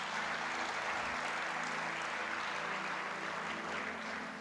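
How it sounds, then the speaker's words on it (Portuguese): A church congregation applauding during a Portuguese-language service, a dense, continuous wash of clapping heard at some distance and fairly soft, steady throughout with no talk. "Pode aplaudir a Deus mesmo."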